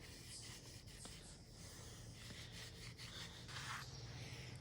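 A fine-grit SOS pad scrubs a grimy snowmobile part, giving a continuous close, quiet abrasive rubbing with slight shifts in stroke and pressure.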